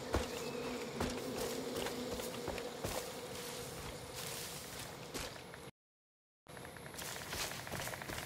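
Insect buzzing from a beehive in the video game Far Cry New Dawn, a steady close drone with bright wingbeat texture and faint shuffling steps, cutting out briefly to silence before resuming.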